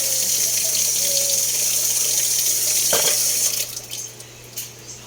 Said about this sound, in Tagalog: Mag-add ako ng konting tubig.